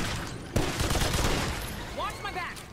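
A light machine gun in the video game Remnant 2 fires a sudden burst followed by rapid rattling shots, with a voice briefly audible near the end.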